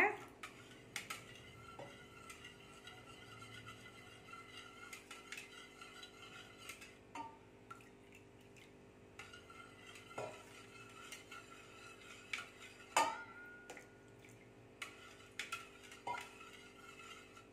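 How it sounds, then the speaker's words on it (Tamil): Curd thinned with a little milk is stirred in a bowl, the spoon scraping softly and clinking now and then against the sides. The sound is faint and close, with scattered light taps. "ஃபஸ்ட்டு நல்லா கலந்துருங்க."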